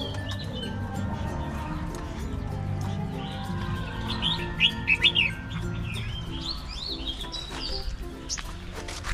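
A laughingthrush sings a varied series of bright whistled phrases over steady low background hum, fairly close and moderately loud.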